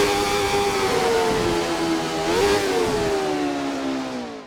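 A 1991 Jordan Formula 1 car's V12 engine revs hard, its high, smooth, whining tone rising and dipping once mid-way before easing off, loud and close with no talking.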